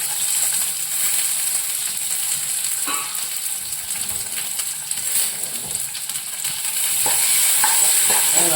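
Cashews, raisins and curry leaves frying in hot oil or ghee for pongal, a steady loud sizzle close up with occasional stirring scrapes throughout.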